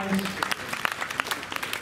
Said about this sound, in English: Let's get one more final round of